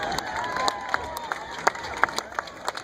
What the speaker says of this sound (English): How about a big round of applause for Tanucci and Sienna?